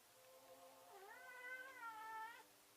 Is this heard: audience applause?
no